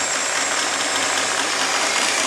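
A mini lathe motor runs steadily up close, a constant broadband whirring hum with no pauses and no speech over it.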